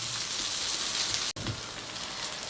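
Paneer satay skewers frying on a hot griddle give a steady, close sizzle like light rain, with a brief break in the middle before the crackle resumes.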